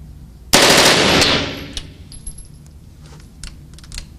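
A .50 caliber machine gun on full auto at a shooting range lets go one dense, loud burst of about a second close by. The burst tails off into echo, and a few scattered clinks of falling brass follow.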